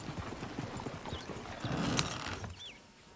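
Horse hooves clip-clop in Red Dead Redemption 2, a steady run of close hoofbeats mixed with creaking tack and a brief whinny-like sound, moderately loud, with no talk.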